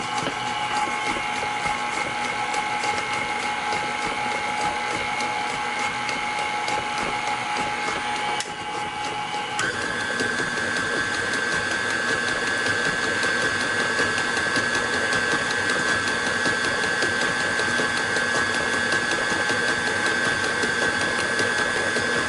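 An electric mixer beats brown sugar into cake batter for a Kentucky butter cake, making a steady, quiet motor whine whose pitch shifts partway through, with no voices.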